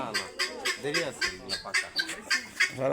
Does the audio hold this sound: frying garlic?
no